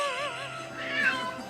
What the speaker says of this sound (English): we present a cat that sounds like a baby